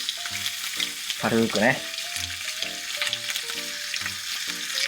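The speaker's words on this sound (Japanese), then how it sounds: "まずベーコンから焼いていきます。 軽くだけ焼きます。" Bacon browns lightly in melted butter in a frying pan, a soft continuous sizzle with faint stirring ticks running under intermittent close-up speech.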